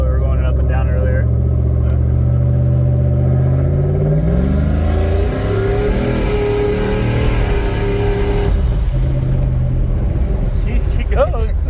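A Chevrolet S10 pickup with a bed-mounted turbo launches hard, its engine roaring loud and close as the pitch climbs steadily for several seconds before easing off, with voices talking over it.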